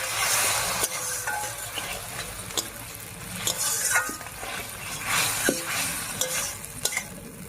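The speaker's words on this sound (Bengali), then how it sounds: "এবারে একটুখানি মশলা বাটা জল দিয়ে কষিয়ে নিচ্ছি।" Spice paste sizzling and being stirred in a pan as spice water goes in, loud continuous frying hiss punctuated by repeated spatula scrapes and clicks, close and without talk.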